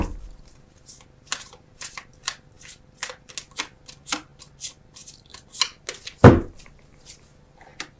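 Tarot cards shuffled and drawn by hand in a quiet room, a string of crisp riffling flicks and snaps with one heavier thump of the deck partway through, close and clear, no talking.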